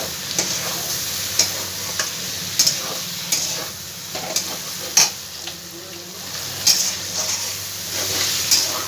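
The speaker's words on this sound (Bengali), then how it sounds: "এবার এই পর্যায়ে আমি ভেজে রাখা আলুগুলো সব দিয়ে দিলাম" Fried potatoes are tossed with spices in a pan, a steady loud sizzle punctuated by sharp spatula clinks and scrapes against the metal at irregular intervals, with no talking.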